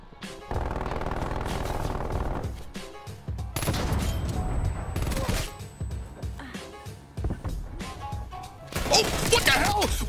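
Sentry turrets spray rapid automatic fire in the Call of Duty: Black Ops Cold War multiplayer, loud dense bursts that come and go across the clip, mixed with other weapon blasts, impacts and game effects.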